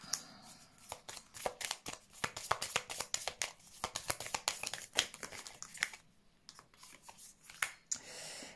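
Tarot cards being shuffled by hand close up. Quick, soft riffling flutters and slaps come in uneven bursts, with a short pause partway through before the shuffling starts again. No one talks.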